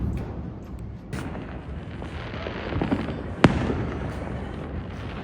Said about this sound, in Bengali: আর খুব বাজি ফাটছে